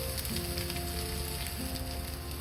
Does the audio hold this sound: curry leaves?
yes